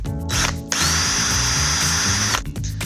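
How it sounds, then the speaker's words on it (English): A power drill whines steadily for about two seconds as it bores a hole into a sturdy plastic bottle lid, close and loud, with brief revving at the start and finish. "Drill 2 holes into the other lid."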